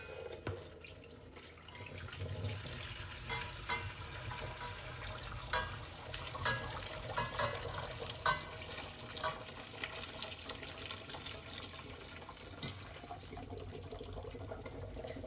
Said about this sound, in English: I'm going to very carefully take my broth and I'm going to strain it through this colander.